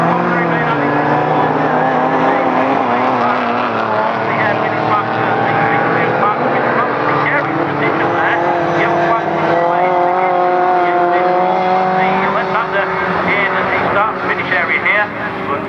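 Rallycross race cars roar off the line at Croft circuit, a dense, continuous wall of loud engine noise with shifting pitches as several cars accelerate together, and a commentator talking over it.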